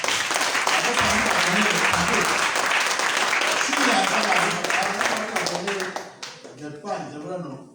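A church congregation applauding during a Sunday service for the blessing of fathers: sustained, dense clapping that thins and fades toward the end, with voices mixed in.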